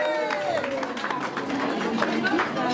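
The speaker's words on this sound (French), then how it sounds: "Oui, on peut les applaudir aussi." An audience at a medieval banquet applauds, with dense clapping from a crowd mixed with chatter and a voice speaking over it.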